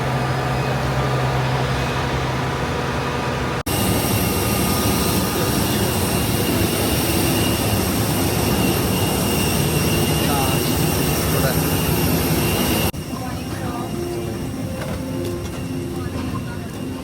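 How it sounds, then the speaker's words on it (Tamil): Steady roar of a jet airliner's engines heard from inside the cabin after boarding at Chennai airport, a continuous loud drone that shifts in level twice. "ஸோ இப்போ நானும் என் மச்சான் வந்து ஃப்ளைட் ஏறிட்டோம்"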